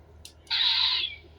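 A brief electronic chime sounds after a tiny click as a device powers on, a bright sustained tone lasting about half a second before fading, clean and close.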